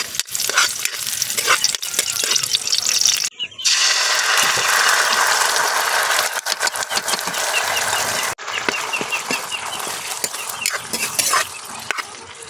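Garlic and onion sizzle in hot cooking oil over a wood fire, a loud continuous crackling fry with stirring scrapes and only brief pauses.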